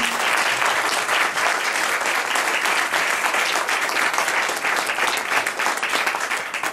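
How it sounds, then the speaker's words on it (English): Dense, loud round of applause from an audience at a memorial gathering, sustained for several seconds with no talking over it. "whom we all give him a round of applause again"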